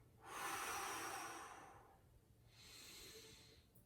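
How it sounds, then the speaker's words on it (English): During a glute bridge exercise, two long, close, airy exhalations are heard, the first louder and longer, the second softer, with no talking. "Continuing my exhale."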